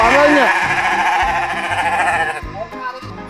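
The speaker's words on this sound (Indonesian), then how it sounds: "Gue angkut nih domba cebol di sini ya" A dwarf sheep bleats close by, a loud wavering cry that repeats in a few short bursts with rumbling handling noise underneath.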